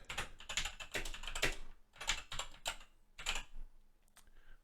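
Typing on a computer keyboard, close and fairly quiet, with bursts of rapid key clicks separated by short pauses and a few isolated taps toward the end.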